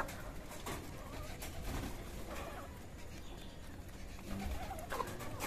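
Soft racer pigeon cooing comes and goes amid a busy outdoor backdrop, with faint voices and rustling nearby.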